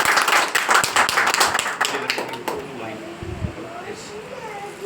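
A congregation at a Christian healing service claps hands in praise, a loud run of sharp, rhythmic claps that fades after about two and a half seconds into quieter room sound.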